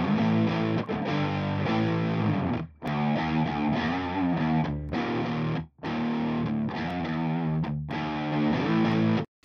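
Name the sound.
electric guitar with low-gain fuzz distortion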